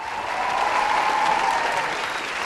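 A studio audience on a Vietnamese comedy show gives a warm round of applause for a female singer, loud close clapping swelling through the middle and easing off, with a faint sustained tone underneath.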